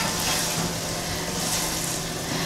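Nacho cheese and soup in a pot being stirred: a continuous soft bubbling, sizzling wash with faint scraping, close and even throughout, with no talk.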